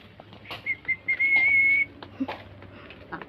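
A person outdoors whistles a few short notes and then one steady sustained tone lasting about a second, close and clear, with light rustling and faint background noise around it.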